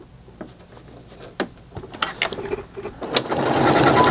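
A home sewing machine stitches decorative patterns on a Christmas appliqué panel, starting with sparse mechanical clicks and ratcheting taps that build into a louder, denser whirring run near the end. No one speaks.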